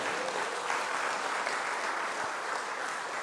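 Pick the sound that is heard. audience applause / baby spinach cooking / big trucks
audience applause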